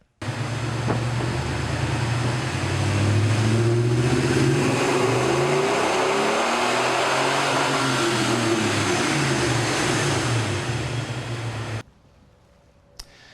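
A car engine revving hard on a dyno fitted with Gibson headers, a loud sustained mechanical roar climbing in pitch for about eleven seconds before cutting off abruptly to near silence.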